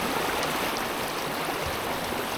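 Fast, riffled water of Big Hunting Creek in central Maryland rushes in a dense, steady broadband wash, loud and close, with no voices.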